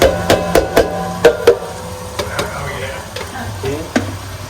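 Onions sizzle in a hot pan for a mirepoix while a utensil stirs them, sharp scraping and knocking strokes landing irregularly over a steady frying hiss, close and loud.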